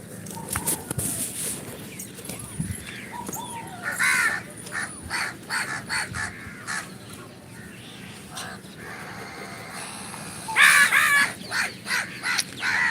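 Crows caw repeatedly outdoors near biscuits left out for them, harsh calls in irregular bursts, some nearer and louder, with faint footsteps and background noise between.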